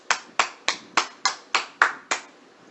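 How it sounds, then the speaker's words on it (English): One person claps eight times at an even, unhurried pace during a podcast, each clap a sharp, close, dry crack, heard alone with no talk. "First ever applause on the Bottom Line Podcast."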